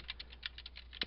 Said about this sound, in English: And now just click anywhere and start typing.